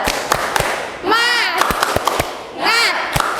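Schoolchildren in a classroom doing the 'tepuk semangat' clapping chant, sharp rhythmic claps in short bursts alternating with loud group chanting, close and lively.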